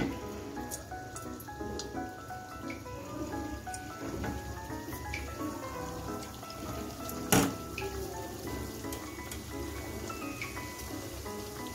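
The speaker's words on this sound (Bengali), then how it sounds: "দেখুন আমি এখন ঠেকুয়াগুলো দিয়ে দিচ্ছি।" Thekua sweets deep-frying in hot oil, a soft, even bubbling and popping like dripping water, with one sharp crackle partway through and faint music underneath.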